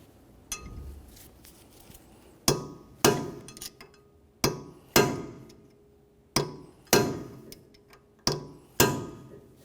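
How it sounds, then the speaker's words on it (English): Hammer peening an axle nut into the axle shaft notch on a 1994-1997 Honda Accord during a front brake job, sharp metallic strikes in irregular pairs and singles, about ten blows, close and ringing, with quiet gaps between. "We need to peen the axle nut into that area."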